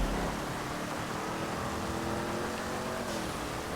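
Race car engines roar continuously in the video game GTA 5 as the cars take a hairpin. The loud, steady engine drone sits close in the mix.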